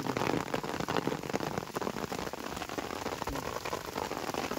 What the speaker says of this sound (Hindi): छोटे छोटे ओले पड़ रहे हैं।